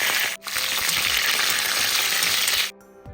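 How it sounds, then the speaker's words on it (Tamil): Loud, dense sizzling and crackling of mustard seeds in hot oil fills most of the clip, then cuts off abruptly near the end. "உடனே நம்ம கடுகு தாளிச்சிக்கலாம்."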